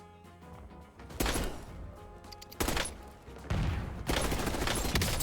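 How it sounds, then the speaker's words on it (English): Bursts of automatic gunfire in a Call of Duty Warzone gunfight, several loud volleys separated by brief lulls, with rapid SMG fire and impacts. "That entire gunfight was initiated by me."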